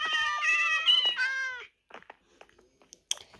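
A Minecraft cat meows in a run of bright, tonal cries lasting over a second, then a few faint clicks and taps follow in the game.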